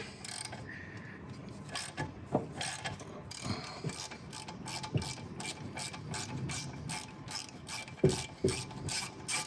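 Ratchet wrench with a short socket clicking on a Ferrari 308 engine during timing belt work, rapid bursts of close pawl clicks repeating throughout.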